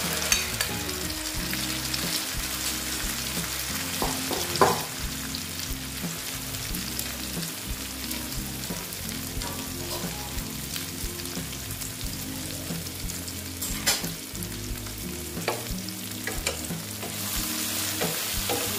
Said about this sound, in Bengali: এবার আমি এই যে সয়াবিনগুলো, এই দেখো এগুলো আমি দিয়ে দিচ্ছি